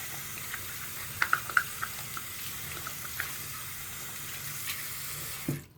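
Water from a tap running steadily while a bottle cap is rinsed, a soft continuous splashing with a few small clicks early on, cutting off abruptly at the end.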